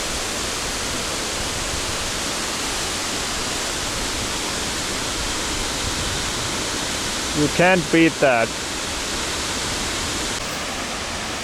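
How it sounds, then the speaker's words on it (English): Dynjandi waterfall in Iceland's Westfjords roars as a steady, loud broadband rush throughout, with a brief spoken remark heard over the falling water near the end. "Dynjandi waterfall. Absolutely recommended."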